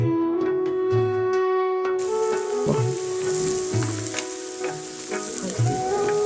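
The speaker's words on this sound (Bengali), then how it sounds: "এখন এটাকে আমি ভালো করে নাড়াচাড়া করে কড়াই থেকে" Vegetables frying in a kadai for an oats dish are stirred vigorously, giving a continuous close sizzle broken by repeated scraping pushes of the spatula, with a steady tonal hum underneath and no talking.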